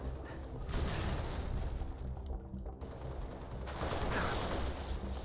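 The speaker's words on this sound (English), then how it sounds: "Grenade." Gunfire and a grenade blast ring out in a Halo Reach firefight, with bursts of shots, a brief lull, then a louder rumbling surge of explosion and continued firing, moderately loud with no talking.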